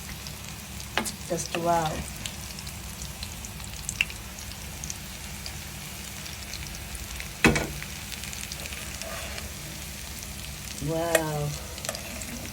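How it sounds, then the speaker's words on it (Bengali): Shami kebabs frying in a pan give a steady close sizzle and crackle, broken by a few sharp scrapes and clinks; a voice speaks briefly in quiet exclamations. "এখন বাচ্চাদের জন্য ভেজে দিলাম"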